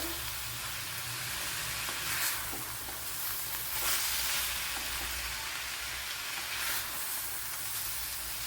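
Kerala-style ash gourd thoran stir-frying in a pan over a medium flame, a loud, constant hissing sizzle with soft scraping swells as the vegetables are stirred to dry out, no talking.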